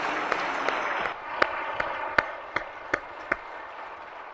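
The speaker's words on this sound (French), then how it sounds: "Alors, s'il vous plaît, levez-vous, comme ça on va pouvoir vous applaudir." Scattered applause from an audience at an annual public assembly on tourism, honouring partners and board members: a brief burst of clapping, then a few sharp isolated claps that thin out over a few seconds.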